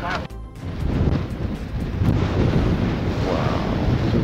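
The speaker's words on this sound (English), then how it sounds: "Wow, the wind is so strong the gimbal can't keep up." Strong gusting wind batters a microphone outdoors at a van build site near the water, a loud, continuous rumbling roar that surges and buffets without pause.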